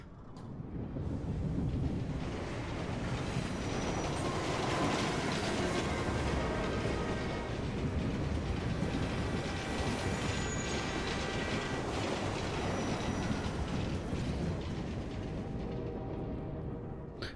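Metro train running in the video game Assassin's Creed Unity, a continuous loud rumble with rattling wheels, faint clickety-clack and occasional metallic squeals, fading in and out at the ends.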